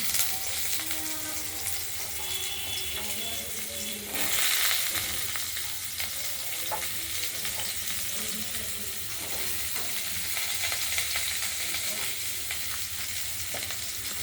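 Drumstick (moringa) pieces frying in hot oil in a wok for a poppy-seed chorchori, a steady close sizzle with stirring scrapes throughout and a louder burst of hiss partway through.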